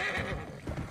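A horse lets out a short, loud whinny that rises and fades within a second, close by and heard alone.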